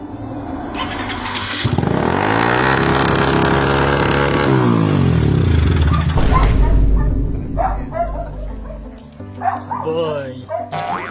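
A Suzuki Raider 150 Fi motorcycle with a stock ECU, its engine running and revving up and down loudly close by, while people talk over it and a dog barks.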